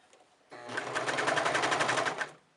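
A sewing machine flatlocks a curved raglan shirt seam in one short, rapid, evenly pulsing run of stitching close up, starting abruptly and fading out after about two seconds.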